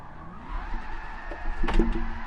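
A powerful car drifts through a corner in the Gran Turismo 7 racing game. A steady engine drone runs throughout, with a brief tire squeal rising near the end.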